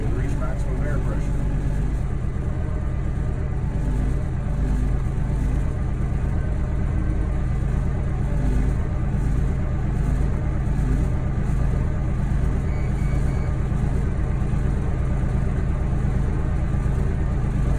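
A vehicle engine runs at a steady idle to build air brake pressure, a continuous low rumble that stays loud and close throughout with no break.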